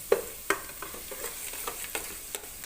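Onion sautéing in a pan while being stirred for a salmon head sinigang, with a soft steady sizzle broken by repeated sharp scrapes and taps of the spatula.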